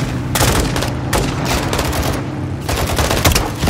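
A grenade launcher fires during a firefight in Call of Duty Modern Warfare 2, loud repeated bursts of blasts and gunfire packed densely together, close and continuous with no clear pause.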